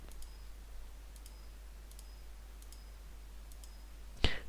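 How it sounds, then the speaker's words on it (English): Computer mouse left-clicking repeatedly while filling in cross stitch software, a series of small, evenly spaced clicks about once per second over a steady low hum, ending with one louder click. "I'm just left clicking in every space where those highlights in the leaves were"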